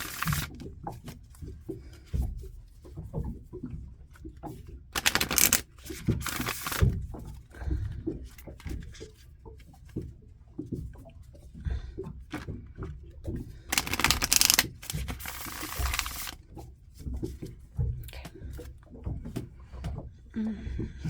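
A deck of cards is shuffled by hand in a quiet room, giving soft riffling patter with two louder, brisk bursts of riffle. A voice speaks quietly at times throughout.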